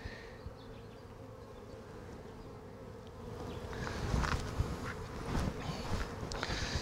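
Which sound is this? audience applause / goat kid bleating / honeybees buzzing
honeybees buzzing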